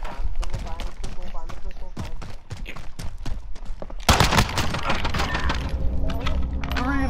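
Pistol gunfire in Call of Duty: Modern Warfare, a rapid series of sharp close cracks in irregular bursts, then a denser loud volley of shots with clattering noise, under an excited player's voice.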